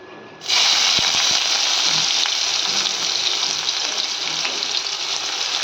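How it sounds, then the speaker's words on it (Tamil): Onions hit hot oil for rava kichadi and set up a loud, steady sizzle that starts abruptly and holds continuously, with a few faint knocks of a utensil near the start. "இந்த ஸ்டேஜில் நம்ம என்ன செய்கிறோம், வெங்காயத்தை சேர்க்குறோம்."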